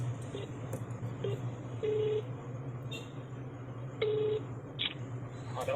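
A phone sends a series of short dialing tone beeps at an uneven pace over a steady low hum and faint background noise.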